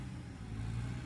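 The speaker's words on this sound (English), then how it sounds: "Car." A car rumbles past on a misty morning outdoors, a steady low engine drone holding at moderate volume through the whole moment with no voices over it.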